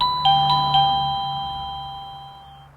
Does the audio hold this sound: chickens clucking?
no